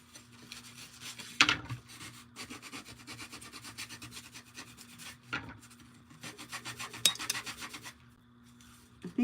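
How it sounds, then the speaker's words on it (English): An Alligator detail sander works a surface with a dry, raspy rubbing, in several bursts and pauses, a steady low hum underneath and louder scrapes now and then, close by and moderately quiet. "It's by, I forget exactly what it's called, but it's a detail sander."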